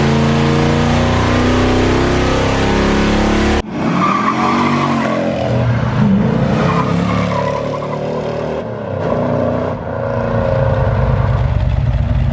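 A car engine on a dyno run roars at high revs, sustained and loud, then drops briefly and climbs again through several surging pulls, close up.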